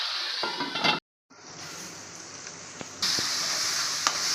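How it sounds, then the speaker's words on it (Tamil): Tomatoes sauté in a pan for tomato chapati masala, crackling with a moderate steady sizzle that cuts out briefly before resuming and growing louder, with a few small clinks and no talking. "தக்காளி கொஞ்சம் நல்லா வதங்கட்டும்"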